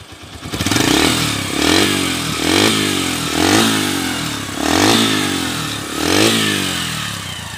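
Yamaha YBR 125 motorcycle running on a Mio CDI, a loud close single-cylinder engine revved in repeated surges that rise and fall roughly every second, with no talking.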